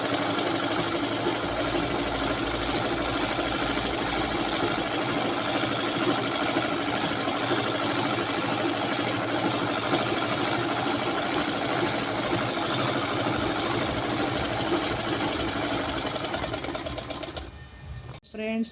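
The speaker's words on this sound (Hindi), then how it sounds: "अब इसी तरह इस पर सिलाई लगा लेनी है निशान के ऊपर।" A sewing machine stitches the seam of a suit sleeve in a fast, continuous mechanical chatter, running steadily close by for most of the clip before it slows and stops near the end.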